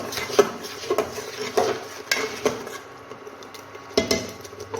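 A spoon scraping and knocking against a pot while coriander powder masala is stirred in, several irregular metallic clinks and scrapes close by, with no talk.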